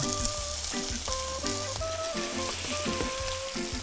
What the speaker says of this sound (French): fondre du beurre dans une poêle et on va venir un peu griller nos pommes de terre